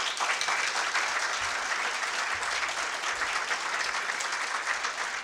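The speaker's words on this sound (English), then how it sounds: "So let's give him another round of applause." A conference audience gives Stephen Greer a steady round of applause, broad and continuous, with dense clapping that carries evenly from start to finish.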